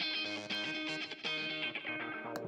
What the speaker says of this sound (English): You can also hear a little synth in the background